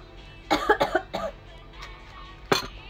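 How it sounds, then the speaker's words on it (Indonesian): A short burst of three quick coughs, then a pause and one more sharp cough, close and fairly loud over a quiet background. "Batuk dulu."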